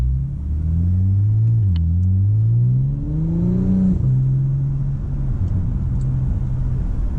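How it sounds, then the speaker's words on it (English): A car fitted with an electric exhaust cutout rumbles loudly as it revs and drops a gear, the engine note rising, falling sharply, then settling into a steady low drone, heard up close and alone. "Little downshift there."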